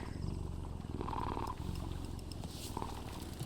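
A cat purring in the video game Dragon Age The Veilguard, a steady low rumbling purr that runs continuously at close range, alone without talk.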